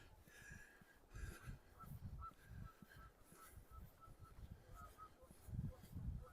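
Distant geese honk repeatedly in a loose, scattered chorus, faint and far off, near open water on a snowy lakeside walk in Regina, while a person talks nearby over a low rumbling background.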